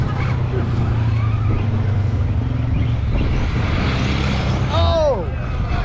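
Losi RC car drifting, with a steady motor whine and tire noise under continuous nearby talk, ending in a sharp screeching skid.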